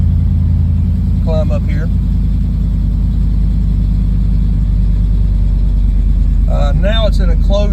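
A car engine fitted with an ACES Killshot EFI fuel injection system idles with a steady, deep, even rumble throughout, while someone talks briefly near the start and again toward the end.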